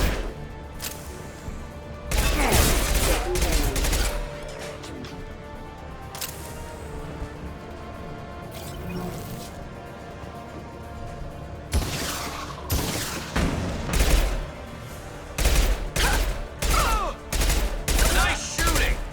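Gunfire from the video game Mass Effect 2 comes in loud, dense bursts of rapid shots, separated by quieter stretches of low game ambience, with another cluster of sharp, close volleys near the end.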